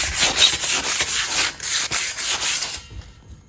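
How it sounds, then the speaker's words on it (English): Sandpaper rubbed by hand over painted metal on a Tacoma rock slider, 80 grit, with close, steady back-and-forth scratchy strokes that fade out near the end. "So you can get some 80 grit, 3M, whatever you want to call it, hand sand away"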